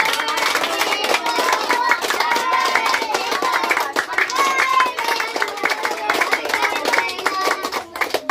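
Guests at Lance's 13th birthday clap steadily, a close, continuous patter of hands running under group singing voices throughout.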